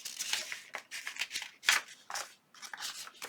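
Paper being folded and creased for a junk journal, a series of close, crisp rustles and sharp crinkling bursts in irregular rhythm, with no voices.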